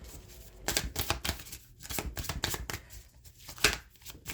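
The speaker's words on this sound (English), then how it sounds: "I'm going to pull 3 cards." Tarot cards are pulled and shuffled from a deck, making a quick series of close papery riffles and slaps in uneven bursts, with no voices.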